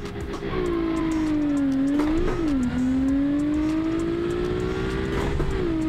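A car in a racing video game drives by with a loud, continuous engine drone whose pitch dips and rises, including a brief wobble partway through, holding close and steady throughout without talk.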